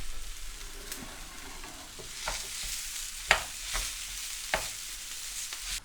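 Minced beef frying in a pan for sloppy joes, a low steady sizzle broken by several sharp scraping stirs and taps of a utensil as the mince is broken up, fairly quiet and close.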